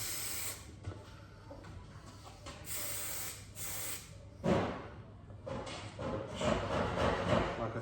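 A spray gun lays a light dusting coat of paint on a Volkswagen Transporter, giving close, quiet bursts of hissing spray that start and stop repeatedly, with short pauses between passes.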